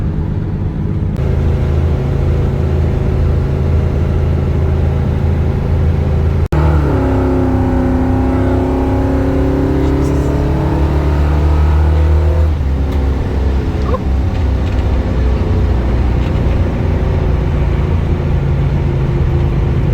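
A high-horsepower car with a 455 cubic inch engine rated at 482 horsepower and 585 torque accelerates hard with the tires breaking loose. The engine roars loud and close throughout, and its pitch sweeps upward partway through.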